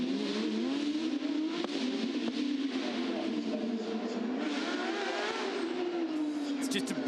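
Porsche Carrera Cup race cars lap the track at Adelaide, South Australia, engines droning and rising in pitch as they pass, loud and continuous throughout, with commentary over the top.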